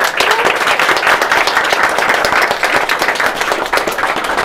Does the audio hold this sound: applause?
yes